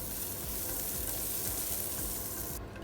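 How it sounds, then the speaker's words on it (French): Butter sizzles at the bottom of a frying pan over moderate heat before pancakes go in, a quiet, even crackle and hiss that continues without a break and thins out at the end; no one speaks. "on va venir mettre un peu de beurre au fond de la poêle"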